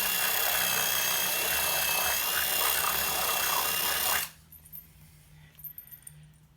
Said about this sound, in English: drill this hole